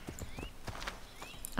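Horse hooves clip-clop on a city street in the video game Assassin's Creed 3, a few quick close hoofbeats with a short whinny-like sound at the end.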